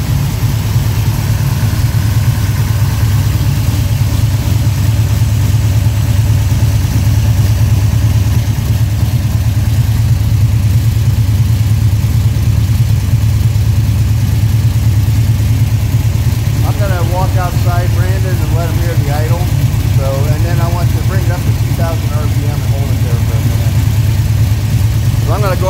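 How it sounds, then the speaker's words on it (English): An all-aluminum Pontiac 522 cubic inch pump-gas street engine idles with a loud, steady, deep drone throughout, and someone talks over the later part. "go out here where you can hear the idle"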